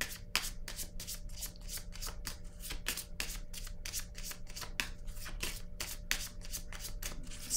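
Tarot cards are shuffled and handled close up, a quick rhythmic series of crisp riffling flicks and soft slaps repeating steadily throughout with no talking.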